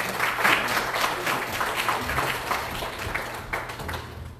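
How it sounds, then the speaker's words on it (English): A church congregation claps during a Baptist morning worship service, warm sustained applause from a room full of people, with a low hum running underneath and fading near the end. "Give them a big round of applause as well."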